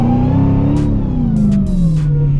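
A Dodge Demon 170 doing a burnout, its engine roaring loud and close in one sustained, slowly falling drone with a few short bursts of hiss, and no talking.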